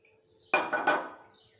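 Vermicelli dropped into a pot of reduced milk with three sharp metallic clanks of spoon on pot in quick succession, close and clear against near silence.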